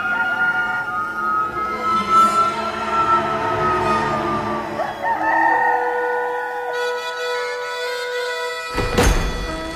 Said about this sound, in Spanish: Y al instante cantó un gallo.